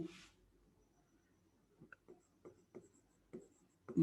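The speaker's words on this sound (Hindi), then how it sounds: "एक प्लांट का नाम इधर लिखता हूं मैं" Marker or chalk scratching out a plant name on a classroom board in short separate strokes, faint and close, with a quiet pause before the writing starts.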